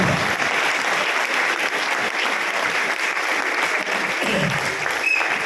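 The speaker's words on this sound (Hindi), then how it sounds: "तो एक बार जोरदार तालियां बजाए सब लोगों के लिए" Loud, sustained applause from a large audience at an RCM business seminar, a dense even roar of many hands clapping continuously throughout without a break.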